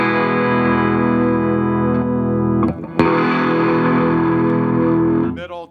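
1969 Dan Armstrong Plexi electric guitar on its bass pickup through a Fender '65 Deluxe Reverb amp, sustaining a ringing distorted chord, then a brief pickup-switch click and another loud sustained chord with a little handling noise at the end.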